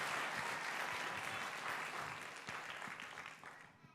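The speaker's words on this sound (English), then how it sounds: "let's give Mary a round of applause for all of her efforts that she has" A round of applause at a school board meeting, a fairly quiet but steady wash of clapping from a modest group that gradually fades out over a few seconds.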